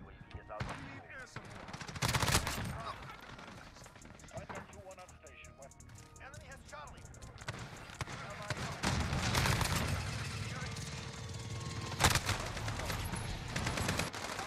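Bursts of gunfire from Call of Duty Modern Warfare, played with an M13 rifle, crack sharply at intervals over busy game noise, with a voice talking throughout.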